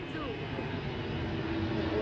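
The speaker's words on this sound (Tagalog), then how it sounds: "May nagte-take off na ANA airline." An ANA airliner takes off at Haneda Airport, a broad, steady jet roar filling the short stretch, with a voice talking faintly over it.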